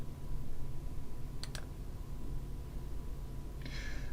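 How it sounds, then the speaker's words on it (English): Mouse clicks while deleting a file in OneDrive: two quick, faint clicks close together, then a brief soft rustle a moment later, over a steady low background hum. "I click on the ellipsis and I click on delete"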